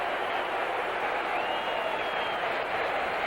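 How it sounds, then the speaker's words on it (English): A stadium crowd at a 1978 Seattle Seahawks at Pittsburgh Steelers football game roars in a broad, sustained wash of booing and noise, steady and far-reaching. "that's the booing you hear now"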